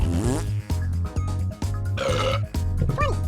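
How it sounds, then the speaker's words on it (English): Series of deep, guttural burping sounds in quick succession, loud and close, with short gaps between each belch and a rising squeaky noise at the end. "Yeah, the burping and fart."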